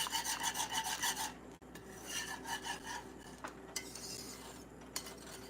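A utensil scrapes and rubs around a pot of homemade banana pudding in quick repeated strokes, close up and fairly quiet, with a few brief knocks against the rim and no speech.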